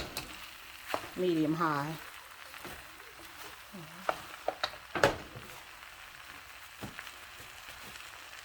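Chicken and veggie fried rice sizzling steadily in a pan over medium-high heat, a soft continuous frying hiss broken by a few sharp clicks. Someone speaks briefly over it.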